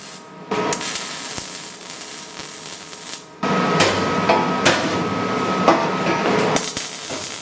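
Welding on the ends of steel tow truck ramps, a harsh crackling hiss that starts after a brief pause and continues with a few sharp pops, close and fairly loud.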